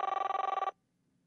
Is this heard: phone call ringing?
yes